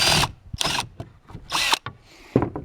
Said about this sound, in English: flip it to the other side and drill from that way